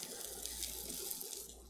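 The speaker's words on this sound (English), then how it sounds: "You should hear some sizzling." Pork tenderloin sizzles in hot oil in a pan, giving a faint, continuous, bright hissing crackle that stays even from start to finish with no voices.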